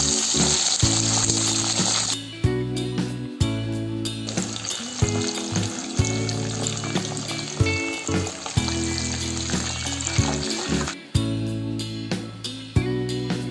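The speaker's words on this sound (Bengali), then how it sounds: "তেলগুলো একটু গরম হলে পাবদা মাছগুলো এভাবে ভেজে নিব।" Pabda fish fry in a wok with about four tablespoons of hot oil, a loud, close, continuous sizzle broken by sharp drops and bursts as the fish are turned or settle.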